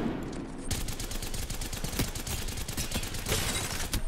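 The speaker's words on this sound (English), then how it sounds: "I'm gonna try to shoot." Gunfire in the Apex Legends video game: rapid automatic bursts of shots crackling continuously for about four seconds, loud and close with no talk.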